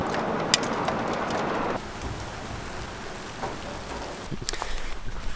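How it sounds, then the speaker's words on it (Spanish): Heavy hail on a mountainside near Barcelona, a continuous rattling hiss that drops in level partway through and then carries on more softly, with scattered sharper hits nearby. "Bueno, más bien granizado."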